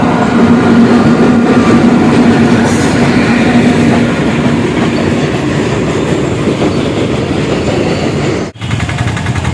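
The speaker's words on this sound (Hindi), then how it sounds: "कुछ देर इंतज़ार करने के बाद ट्रेन आ गई।" A train rolls past a railway level crossing at close range. The rumble and rhythmic wheel clatter stay loud and continuous, and a brief dropout comes near the end.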